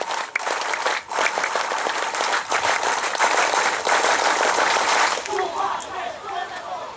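An audience at an outdoor tree-planting ceremony doing the Pramuka scout clap, a burst of loud, dense, rhythmic group clapping that fades toward the end, with voices mixed in.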